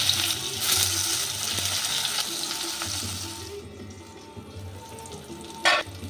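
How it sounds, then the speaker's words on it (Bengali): Small pieces of eggplant fry in lightly salted oil with a steady, soft sizzle and occasional stirring scrapes, ending in a brief sharper crackle. "একদম ছোট ছোট টুকরো করে এই বেগুনটা ভেজে নেব।"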